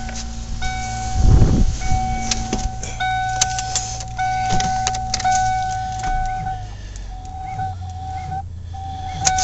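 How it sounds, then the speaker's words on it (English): A car cold-starting with a slow, low crank and smoke coming from the valve covers, a steady mechanical hum with a rough, loud surge near the start and no talking. "Still a really low crank"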